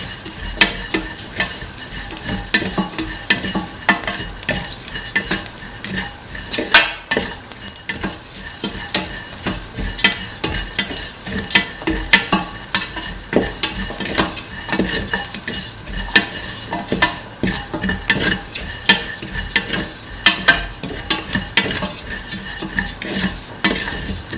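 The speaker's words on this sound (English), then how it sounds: "mix in the onions, cumin and the shallots until the onion and the shallot pieces lose the pinkish color" Onions, cumin and shallots stirred in a hot pan for cumin rice, with a continuous loud sizzle and frequent scraping of the utensil against the pan, no voices.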